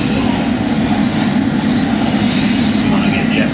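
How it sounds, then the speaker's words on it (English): Airliner jet engines run steadily at the gate of a United Airlines operation, a loud, continuous roar with a strong low hum and a high whine, with no break across the whole stretch. "the aircraft went to the gate and engines are running"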